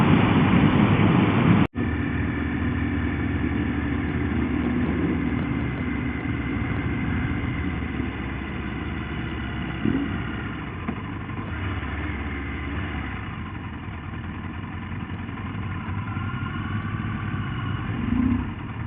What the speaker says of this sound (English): there's obviously an old bike rally going on here